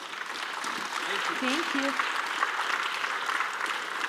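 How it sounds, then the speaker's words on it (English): Conference audience applauds a speaker at an African product-leadership event, a steady wash of clapping held for the whole stretch, with a man briefly voicing thanks over it. "Ladies and gentlemen, please give Gabi another round of applause."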